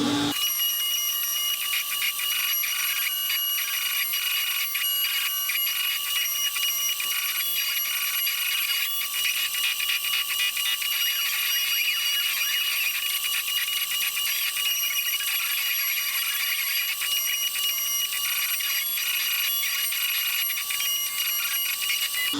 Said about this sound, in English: I'll start to carve out whatever you have set up on the machine